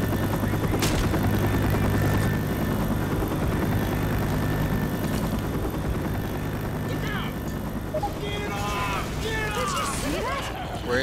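A helicopter drones overhead with a steady, thumping rotor hum, loud and continuous throughout, while voices speak and shout over it and brief chirping sounds appear near the end.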